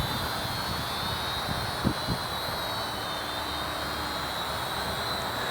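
A Syma X220W camera drone flies and hovers, giving a steady high-pitched whine with a constant buzzing tone that holds evenly throughout, moderately loud, with a couple of faint low knocks midway and no talking.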